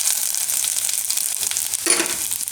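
Mustard seeds and cumin hit hot oil in a dense, steady sizzle and crackle, close and loud, with a brief louder burst of spattering near the end.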